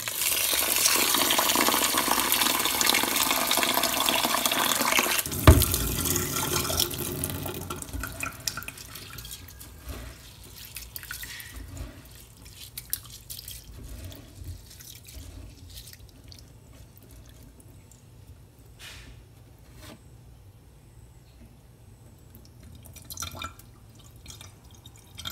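Black glutinous rice being rinsed in a sink, with running tap water splashing loudly for the first several seconds and then quieter drips and sloshing as the grains are swirled and drained.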